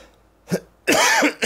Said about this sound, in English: Apologize for the coughing.